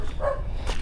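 A single short dog bark sounds at middling distance over low background rumble in a fishing village, brief and unaccompanied by talk.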